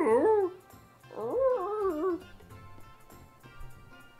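Dog vocalizations in a video game: two whiny, yelping howls with sliding pitch, the first short and the second longer, followed by faint clicks and soft background game sounds.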